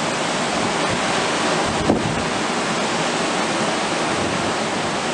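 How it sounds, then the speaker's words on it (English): High ocean surf during Hurricane José, a continuous loud broadband wash of crashing waves mixed with gusting wind buffeting the microphone, with one brief louder burst near the middle. "The ocean wave was pretty high."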